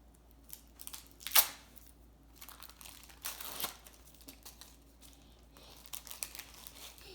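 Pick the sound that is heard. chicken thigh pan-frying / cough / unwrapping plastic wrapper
unwrapping plastic wrapper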